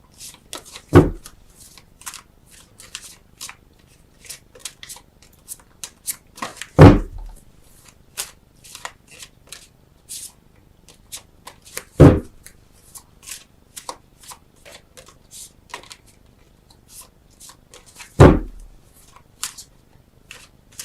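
Tarot cards shuffled by hand in four separate bursts a few seconds apart, each a quick riffling flutter with soft handling clicks between, close and fairly quiet, with no talking.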